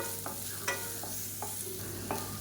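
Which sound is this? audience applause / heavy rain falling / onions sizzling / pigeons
onions sizzling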